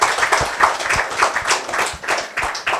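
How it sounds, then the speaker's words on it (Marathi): Clapping from an audience at an inspirational talk by a sanyasi, a steady mass of hand claps with rhythmic pulses running through the whole stretch, fairly close and loud, with no talk over it. "टाळ्या झाल्या पाहिजेत सगळं."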